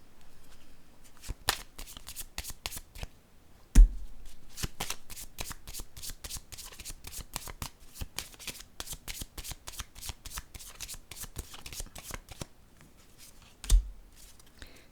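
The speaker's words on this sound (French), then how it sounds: "Je vais déposer une carte." Tarot cards are shuffled close up in a rapid run of crisp riffling flicks, then laid down with soft taps, briefly pausing and resuming, largely without talk.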